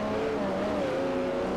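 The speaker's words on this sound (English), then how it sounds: "struggling big time to control this car right now with traction control off" A Mercedes-Benz coupe in Forza Motorsport 4 races with traction control off, its engine holding a loud, steady high-revving drone with slight pitch wavering throughout the short burst.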